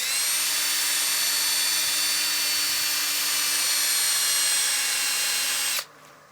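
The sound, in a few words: sanding a dyed wood platter with a sanding screen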